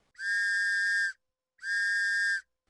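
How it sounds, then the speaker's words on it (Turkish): Two long, steady, shrill blasts on a whistle, each about one second, separated by a short pause and heard alone with no talk. "Düdüğü bir kere çalarsam olmadı demek."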